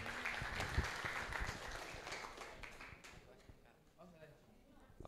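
A crowd at an entrepreneurship workshop claps in a loose, steady burst of applause, with voices mixed in underneath, fading somewhat toward the end.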